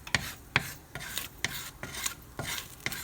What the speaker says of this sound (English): You scrape that bottom off as much as you possibly can.